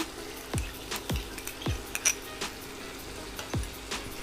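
A metal spatula knocks against a frying pan in sharp, spaced clinks, about one every half second, while vegetables are tossed with soy and tomato sauce for street-style veg fried rice, under a faint, quiet sizzle.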